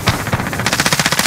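Rapid automatic gunfire crackles in a video game battle royale, with a fast, even burst of shots that stays loud and close throughout and has no talk over it.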